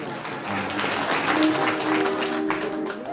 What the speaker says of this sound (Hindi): एक बार नेगी जी के लिए जोरदार